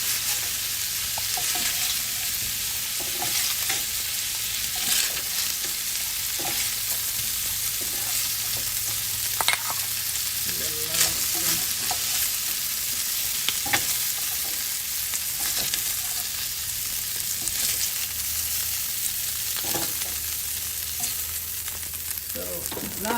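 Pepper shrimp pan-frying in oil: a steady, dense sizzle and crackle that carries without pause, with occasional stirring scrapes and clicks as the pan comes off the heat.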